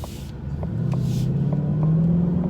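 A Whipple-supercharged 2018 Ford Mustang GT idles in normal mode, then revs gently at low RPM. Its close, steady engine rumble builds slightly, with a rising whine from the supercharger and no one talking.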